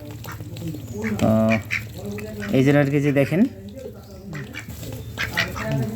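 Male ducks quack in bursts while being fed at home, loud nasal calls near the listener, with a person talking between them.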